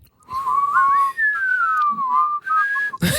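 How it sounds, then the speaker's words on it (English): A person whistles inward, a wavering, sliding tune up close, the pitch bending up and down in short phrases, ending with a brief burst of noise. "So you whistle in."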